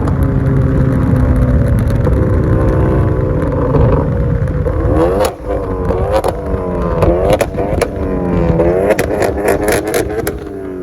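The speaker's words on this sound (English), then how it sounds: "I have a custom exhaust on my Gen Coupe right now." A Hyundai Genesis Coupe revs hard through a loud custom exhaust, rising and falling in repeated bursts of throttle, close up with no talking.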